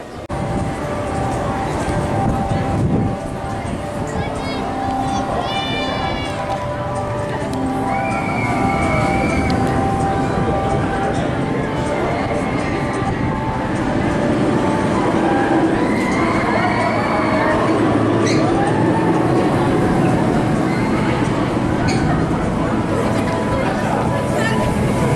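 Ride on the Frida roller coaster at Energylandia, a steady loud roar of wheels and rushing wind through the whole run, with screams and shouts from riders layered throughout.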